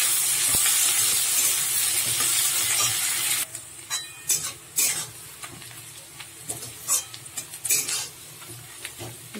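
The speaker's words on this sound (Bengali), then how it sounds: "যে পেঁয়াজটা ভেজে নিচ্ছি।" Thinly sliced onion hits hot oil in a wok for chicken kosa, a loud dense sizzle that soon drops to softer frying broken by repeated scraping stirs of the spatula.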